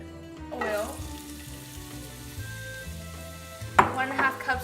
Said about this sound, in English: we're going to be sauteing our vegetables that we just chopped up